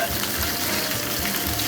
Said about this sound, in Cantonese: 落咗蝦之後，唔好喐佢住，